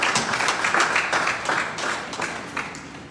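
An audience at an event against human trafficking claps briefly, a moderate scatter of hands ringing out unevenly before easing off.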